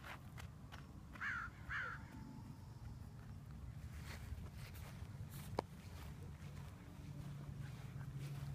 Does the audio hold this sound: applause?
no